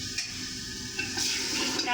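Fried vegetables in a pan, giving a soft, low sizzle close by with faint stirring clicks, quiet and continuous for a brief moment.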